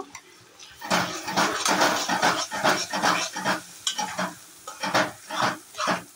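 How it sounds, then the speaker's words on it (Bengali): Spices sizzling and frying in hot oil with turmeric and salt for a taro leaf curry, with repeated loud bursts of stirring and the scrape of a spatula against the pan, and no talking. "এগুলো কিছুক্ষণের জন্য ছেড়ে দেব ভাজা হওয়ার জন্য"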